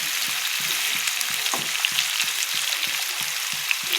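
Radish and flat beans fry in a pan, giving a steady bright sizzle under a regular run of soft spatula taps and scrapes, close and moderately loud, with no talk.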